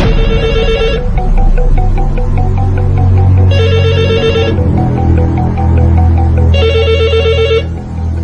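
A telephone rings loudly in repeated electronic bursts, three rings spaced evenly about three seconds apart, over a low background hum.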